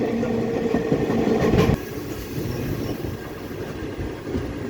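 17011 Intercity Express with ICF coaches running at speed between Charlapalli and Ghanpur, a continuous rumbling roar with rhythmic wheel clatter on the rails, loud and close, briefly louder before settling.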